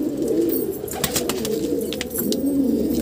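Pigeons cooing inside a pigeon loft, their soft, throaty calls rolling on continuously and close by with no pauses.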